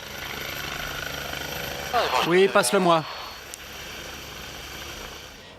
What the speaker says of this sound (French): L'hélicoptère s'envole pour l'hélitreuillage.